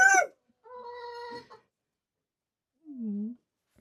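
A rooster on a winter homestead gives a short crowing call near the start, followed by a longer harmonic vocal call and a brief low cluck-like note after a pause, with quiet gaps between.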